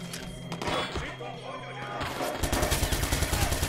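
Rapid automatic gunfire from the player's newly bought gun in the game Watch Dogs 2, a loud, steady burst of evenly spaced shots following heavier impacts, with a voice speaking over it.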